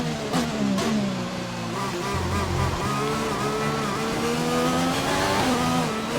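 An F1 race car in the F1 2020 game at the Australian circuit on warm tyres, its high-pitched engine wailing and shifting steadily through a lap, loud and continuous with no talk.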